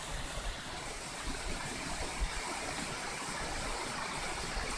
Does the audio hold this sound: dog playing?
yes